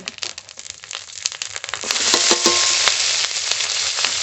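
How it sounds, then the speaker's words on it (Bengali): Whole cumin seeds, garlic, dried red chillies and green chillies frying together in hot oil, a steady crackling sizzle with sharp pops that grows louder and denser partway through, heard close up with no talking. "গোটা জিরে রসুন শুকনো লঙ্কা কাঁচা লঙ্কা একসঙ্গে ভেজে নেব"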